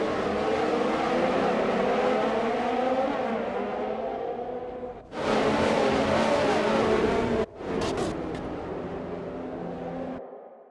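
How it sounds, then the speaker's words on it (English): A Formula 1 race car engine in F1 2020 drones loud and continuous, shifts its pitch through gear changes and revving, and cuts out abruptly twice before falling silent at the end. "Turn the engine off and wait for the marshals."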